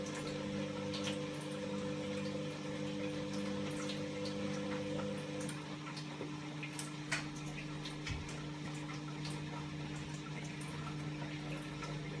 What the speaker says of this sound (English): So it's just pumped out a little bit, and it's gone on to the first bar on the spin cycle here.